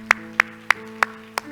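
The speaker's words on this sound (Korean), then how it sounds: "우리 하나님께 영광을 박수합시다." Five sharp, evenly spaced claps ring out in a church congregation over a steady low hum, each a bright crisp burst rather than a full wash of applause.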